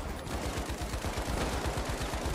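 Rapid, steady gunfire in a video game firefight, a dense stream of close shots repeating at a fast rhythm for a couple of seconds with no talking.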